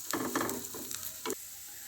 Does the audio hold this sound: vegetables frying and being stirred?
yes